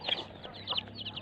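A chicken clucks in quick, close, high-pitched bursts, several short calls in an uneven rhythm at moderate volume, with no talk.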